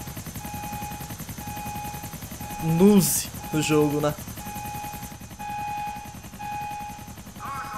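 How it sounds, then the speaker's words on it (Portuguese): An Annihilator helicopter in the game GTA: The Lost and Damned, its rotor giving a steady rhythmic chop beneath someone talking, with a few louder game sounds in the middle. "Esse cara veio num helicóptero. Annihilator."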